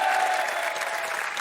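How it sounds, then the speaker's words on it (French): A studio audience at a French television game show claps in a brief, dense burst of applause that stays loud and even throughout. "Applaudissements pour Bravo, Vita."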